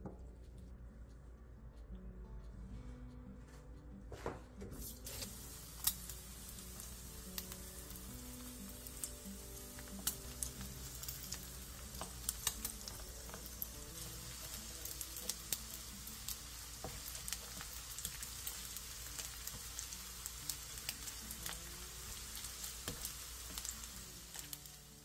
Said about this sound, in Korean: 팬에 기름을 두른 뒤 게맛살을 올려 중약불에서 앞뒤로 노릇노릇하게